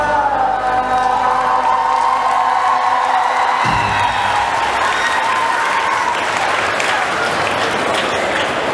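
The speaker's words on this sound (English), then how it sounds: "give them a warm applause again, you guys" An audience at a comic convention stage show bursts into applause and cheering for contestants, loud dense clapping with whoops that swells after a fading sung tune.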